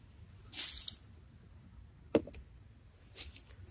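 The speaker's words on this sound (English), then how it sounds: "Let me dump this water." A container of water is tipped out at an allotment garden, giving a brief splash and a sharp wet slap amid quiet outdoor ambience, with a couple of soft rustles around it.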